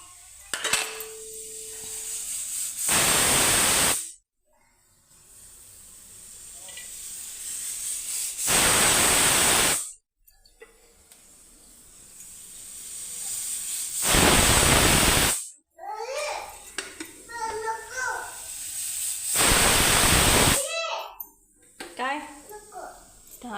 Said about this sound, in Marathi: इकडं कुकर चिट्ट्या व्हायला लागलेत